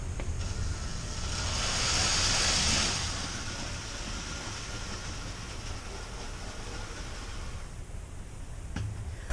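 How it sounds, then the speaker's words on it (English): A Marx 999 toy model train engine and tender, bought at an estate sale, runs along its track with a steady low rumble that swells in the first few seconds, then settles into a continuous close whir. "What we've got here is my Marks 999, that engine and tender I purchased at a estate sale for 10 bucks, got it running."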